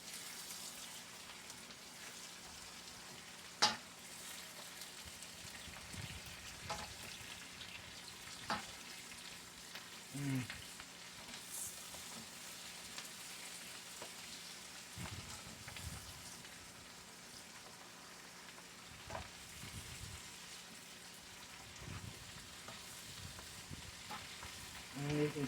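Cabbage fries in oil in a pan with a soft continuous sizzle and occasional stirring clicks and scrapes, fairly quiet and with no talk.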